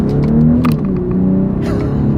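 A 2024 BMW X6 accelerates hard with a rising engine note, and quick paddle-shifter gear changes cause brief breaks in the rumble over about two seconds.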